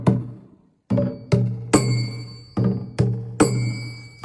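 A Karbi folk percussion pattern where a bright bell rings with each struck hit, six or seven evenly spaced sharp strokes, each decaying quickly with a metallic shimmer over a low resonant body, close and clear.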